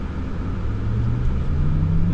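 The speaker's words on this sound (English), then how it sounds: "The dual motors kick in, and it's a nice, even power band up and up to speed" A 2024 Cadillac Lyriq Sport 3 AWD with dual electric motors pulls away and gains speed, its low whirring drone rising smoothly and steadily in pitch and growing louder inside the cabin.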